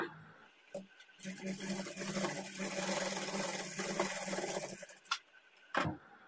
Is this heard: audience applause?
no